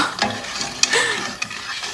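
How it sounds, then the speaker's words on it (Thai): Red-colored sugar syrup starting to boil in a pot, giving a soft bubbling sizzle with a few sharp clicks of a utensil or pot, close and fairly quiet, no voices. "น้ำเขาก็เริ่มเดือดแล้วค่ะ"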